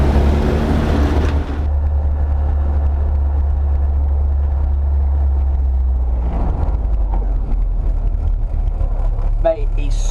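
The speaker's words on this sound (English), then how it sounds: "Mate, that exhaust is so much better." Engine and exhaust drone of a classic Mini van with a Maniflow twin silencer exhaust, steady low rumble on country roads, loud and continuous throughout with a brief louder burst at the very start.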